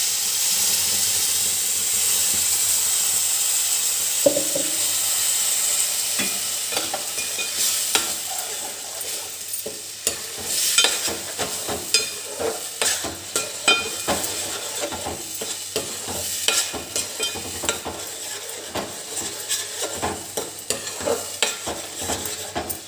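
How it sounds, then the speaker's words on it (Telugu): Onions and tomato masala paste fry in oil in a wok for an egg curry, giving a steady close sizzle and hiss broken by frequent scraping stirs that grow busier as it goes on. "ఇదే కళాయిలో కొంచెం ఆయిల్ వేసుకొని ఇంకా మనం ఇందాక టమాటాలు మసాలాలు ఇవి పేస్ట్ చేసుకున్నాం కదా, ఉల్లిపాయలు అవి అది వేసుకుంటున్నాను."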